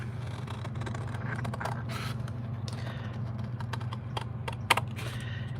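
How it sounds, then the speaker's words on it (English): Scissors snip through paper by hand to cut out a heart shape, a run of soft crisp cuts and creaks over a steady low hum, close and fairly quiet, with one sharper click near the end. "now we're gonna hand cut out this heart"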